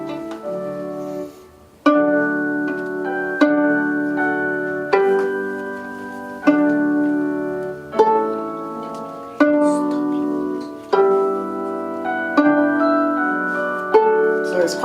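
Plucked string instruments play a gentle, slow reading-exercise tune. Clear ringing notes are struck roughly every one and a half seconds, each decaying before the next.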